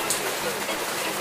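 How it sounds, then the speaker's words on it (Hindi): Heavy rain pouring steadily outdoors where water collects, a dense loud hiss with close splashing throughout, a brief voice faintly present underneath. "आवाज़ भी आ रही होगी बारिश की आपको"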